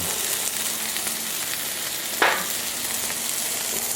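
Eggs fry with a steady sizzle on a Camp Chef Sidekick griddle, and a spatula scrapes under them once in a brief sharp flip. It is close and constant with no talking.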